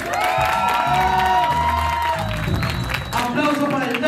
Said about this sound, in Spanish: Aplauso para el soccer.